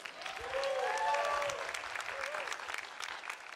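A church congregation claps and cheers for its youth, a warm, steady wash of applause with a few whoops rising early, then easing but continuing throughout.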